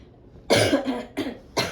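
Three rough coughs in a row, close and fairly loud, the first strongest, with short pauses between them.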